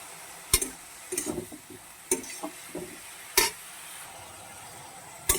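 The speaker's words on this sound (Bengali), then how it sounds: "বেশ একটু ভালো করে নাড়াচাড়া করে একদম আঁচ সিম করে ঢাকা দিয়ে দেবো" Pumpkin, eggplant and fenugreek greens are stirred in a pan with a faint background sizzle, broken by about half a dozen sharp utensil clacks and scrapes at uneven intervals, close and without speech.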